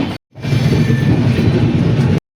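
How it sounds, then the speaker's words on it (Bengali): A Humsafar Express train rushes past alongside, a loud steady roar of wheels and carriages heard close up, cutting in and out abruptly. "পাশ দিয়ে চলেছে হামসাফার।"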